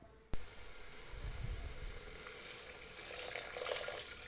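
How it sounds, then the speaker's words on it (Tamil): Ground coriander, cumin and pepper hit a hot pan for chicken soup, a sharp onset then a steady close sizzle that holds throughout, with no talk. "சேர்த்துட்டு லைட்டாக வதக்கி விட்டுக்கலாம்."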